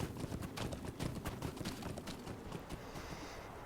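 A horse's hooves pound steadily while riding in the fantasy video game Lord of the Rings Online, a dense, continuous gallop of rapid thuds at moderate volume.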